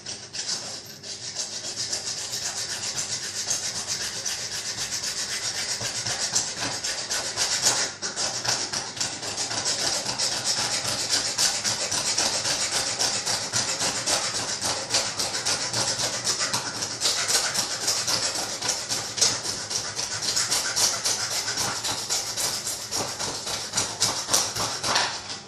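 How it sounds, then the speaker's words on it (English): A hacksaw cuts through pipe in a steady run of rasping back-and-forth strokes, close and loud, with no pause for about twenty-five seconds during a pipe bending and install job. "Grab our hacksaw."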